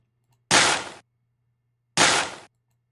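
Two heavy stomp hits from a stomp sample, each a loud broadband thump about half a second long with a short decaying tail, spaced roughly a second and a half apart over near silence.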